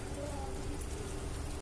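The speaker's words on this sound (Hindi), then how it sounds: "अब हम इसमें थोड़ा सा पानी ऐड कर देंगे।" Water is poured into a pan of malai kofta gravy, making a steady, close hiss and splash that runs unbroken throughout.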